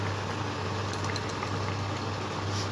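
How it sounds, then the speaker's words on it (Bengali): Gravy for pointed gourd dorma boiling in a pan, a steady close bubbling and simmering hiss with soft popping that holds evenly throughout, no voices. "এই যে দেখো, ঝোল ফুটে গেছে।"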